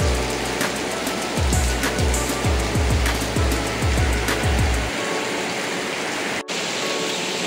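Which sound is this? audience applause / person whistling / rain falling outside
rain falling outside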